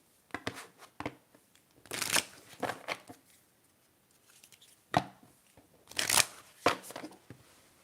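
Moonology oracle cards handled and shuffled in a series of crisp riffling bursts and soft taps, two louder bursts standing out, close and quiet with no talking.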